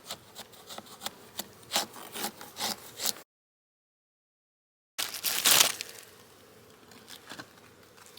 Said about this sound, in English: We need all the room up here for the sugar bricks, not this excess beeswax. I'm just gonna scrape that off.